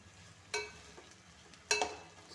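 A spoon stirs crushed pepper chicken in a pan, with two distinct scraping clinks over a faint low sizzle, close and quiet with no talking.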